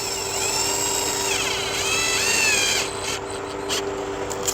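A power drill whines and winds up and down while driving screws into a 2015 Chevy Malibu headlight assembly, a close, steady motor pitch that rises and dips in a few pulses.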